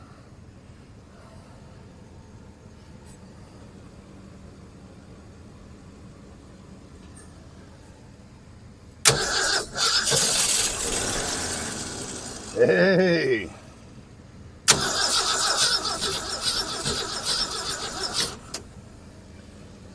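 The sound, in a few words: abandoned farm truck engine cranking and briefly starting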